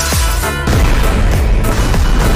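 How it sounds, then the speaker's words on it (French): In a film, a rocket strikes a house and explodes, making a loud, broad crash-boom with falling whooshing tones, followed by a sustained roar of debris and rumble. "une roquette a explosé chez lui"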